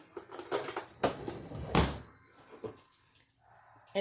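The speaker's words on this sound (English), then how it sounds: "I'm going to stir that up till there isn't any" Close, irregular clinking and scraping as cornstarch and water are stirred briskly in a small container, with short pauses between bursts and no voices.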